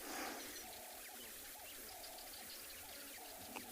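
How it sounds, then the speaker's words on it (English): Cape turtle doves calling at sunset in the Tswalu Kalahari, a faint repeated cooing phrase recurring every second or so against steady hissing outdoor background noise. "You can hear the Cape turtle doves singing."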